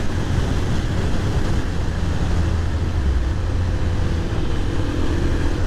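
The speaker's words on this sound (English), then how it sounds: "Whereas on the KLX, I can rip down this thing and hit every pothole and feel great." A Kawasaki KLX motorcycle rides down a rough, potholed road, heard as a steady, dense rumble of engine and wind noise, loud and constant with no talk.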